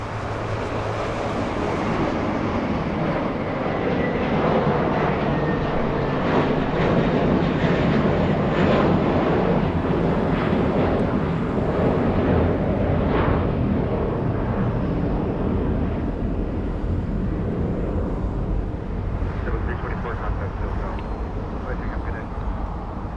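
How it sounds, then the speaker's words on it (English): A JetBlue Airbus A321 departs Los Angeles International Airport for JFK, a steady broadband jet roar held throughout, with a person talking over it. "JetBlue heading to JFK. That's an A321."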